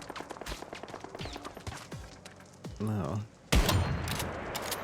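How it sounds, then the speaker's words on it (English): Gunfire in the survival video game Once Human, a few scattered shots followed by a loud, dense burst of rapid firing near the end, with a brief spoken word partway through. "Who's shooting?"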